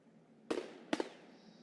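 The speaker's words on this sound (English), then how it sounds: "Right, so we got gunfire already." Two sharp video game gunshots, a fraction of a second apart, each with a short echoing tail over a quiet background in a woods map.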